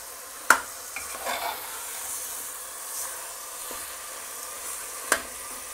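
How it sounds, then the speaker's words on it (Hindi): Sliced tomatoes stirred into frying meat for tamatar gosht in a pressure cooker: a soft steady sizzle with a few sharp spoon clacks against the pot, close and fairly quiet, no voices. "मैंने 5 टमेटोज़ स्लाइस करके लिए हैं और ख़ूब अच्छी तरह से इसको मिक्स करना है।"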